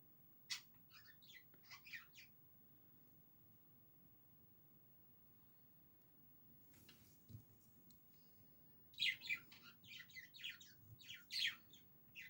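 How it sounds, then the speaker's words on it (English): Small pet bird giving light, quick chirps and clicks in two bursts, one near the start and a denser run toward the end, with a quiet low room hum between. "that's the chirps I like to hear. Sometimes he does such lovely little sounds."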